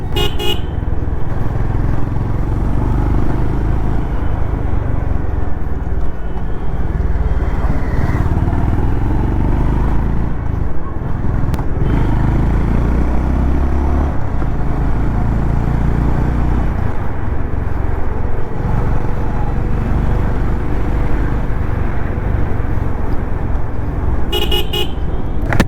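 Honda CB350RS motorcycle engine running in steady, loud, close-up rumbling traffic, with short horn toots near the start and again at the end.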